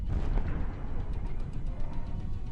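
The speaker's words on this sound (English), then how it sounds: "First explosion." Explosion from a HIMARS strike on a Russian SAM launcher, a dense sustained rumbling roar with crackling texture, loud and continuous throughout.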